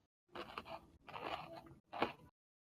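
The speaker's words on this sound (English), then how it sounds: "The sound of chewing." A looped chewing sound effect playing in three short bursts, moist crunching bites separated by brief pauses, close and clear with no talking over it.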